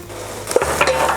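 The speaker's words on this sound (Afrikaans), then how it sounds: "Dan gaan ons hom net lekker braai." Garlic and green pepper fry in a pan as a utensil stirs, giving a brief close scrape and a couple of light clinks over a low, steady sizzle.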